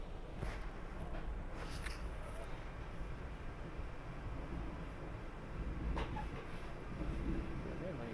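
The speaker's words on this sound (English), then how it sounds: "That train just caught up with us." A SEPTA Regional Rail train on the Paoli/Thorndale line passes alongside as a steady loud rumble and rolling clatter, heard from inside a moving train, with brief louder swells near the start and end.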